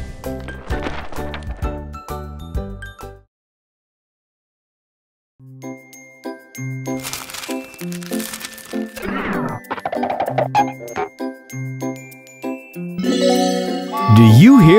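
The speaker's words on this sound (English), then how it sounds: "That's Mr. H practicing on his harp." Harp practice, a run of bright plucked and tinkling notes, then a pause of silence, then more ringing plucked notes with faint voice-like sounds mixed in near the end.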